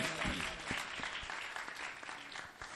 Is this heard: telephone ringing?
no